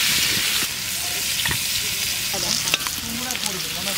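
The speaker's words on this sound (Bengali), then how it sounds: "আলুটা কষানো হয়ে গেছে," Potatoes sauté in a pan of hot oil for a Bengali village-style mutton curry, giving a steady close sizzle with scattered scraping stirs and light clinks throughout, no voices.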